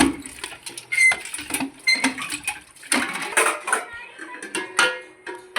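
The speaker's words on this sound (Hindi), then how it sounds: "देखिए ये मोड़ी धो रही है बर्तन।" Metal pots and utensils being scrubbed and washed by hand, an irregular run of close clattering, scraping and clinking bursts without pause.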